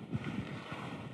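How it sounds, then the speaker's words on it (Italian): The noisy vacuum pump motor of a freeze dryer, set up outdoors, gives a steady, rough droning rumble with breathy hiss. It is continuous and fairly quiet, with no voices. "Siccome quando parte è bella rumorosa, noi l'abbiamo messo fuori, il motore è questo."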